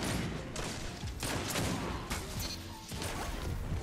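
Heavy gunfire and a loud blast crash through a hectic firefight in Destiny's Altar of Flame raid, dense continuous bursts and impacts with brief whooshes, loud and close throughout.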